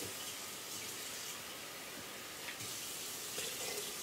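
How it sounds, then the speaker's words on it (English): Water pours steadily into a pot of curry for seconds, a continuous close splashing hiss without speech. "I'm going to add a little more water here."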